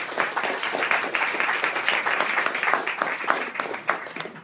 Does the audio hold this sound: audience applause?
yes